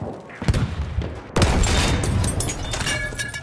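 Feldkanone 96 field cannon shelling in Battlefield 1, with loud booming shots at about half a second and just under a second and a half, followed by crackling battle noise and distant explosions.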